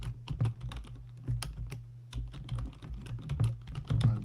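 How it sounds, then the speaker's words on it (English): Fingers type steadily on a computer keyboard nearby, a quick irregular patter of key clicks with short pauses and no talking. "I'll type it into the chat here."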